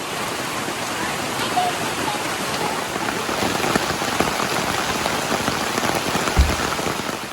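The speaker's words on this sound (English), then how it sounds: "it just keeps raining harder and harder and harder." Heavy rain pours steadily in the Ozarks' Sylamore District, a dense, close hiss of drops on surfaces that holds constant throughout, with a brief low thump near the end.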